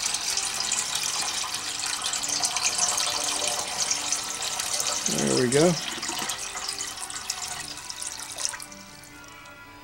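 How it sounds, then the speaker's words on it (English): Tap water runs steadily into a cooking pot being filled to boil potatoes, a continuous rushing stream lasting most of the clip before tapering off, with a brief spoken comment partway through. "There's our water. We'll get that water to boil."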